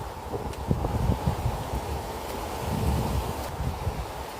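Steady wind roaring and buffeting a microphone, a continuous low rumble with faint rustling throughout, no voices.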